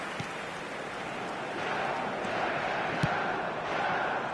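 Stadium crowd in a PS5 football video game giving a steady, broad roar of appreciation, with a faint murmur and a soft swell partway through.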